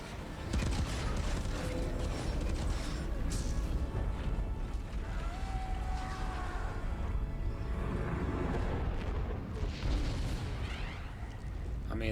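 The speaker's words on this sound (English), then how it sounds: "I mean, that's a seriously big explosion." A massive explosion in an episode of The Mandalorian season 3, a loud, sustained roar of booming blasts and rumbling debris that stays heavy the whole time, with bursts swelling near the start and toward the end.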